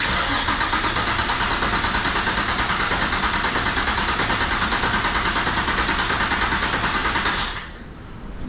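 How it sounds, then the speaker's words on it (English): Turbocharged Nissan VQ35 engine fitted in an S13 chassis, cranking over on the starter in a steady fast rhythmic churn, loud and close, that holds for several seconds before stopping abruptly into a quiet background. "this motor's cranking way better than the other motor"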